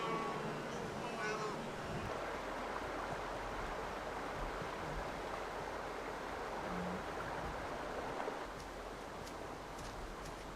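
Rushing water of the Mara River in the Serengeti as a herd of wildebeest gathers to cross: a steady, broad roar of flowing current that fills the whole scene with little change.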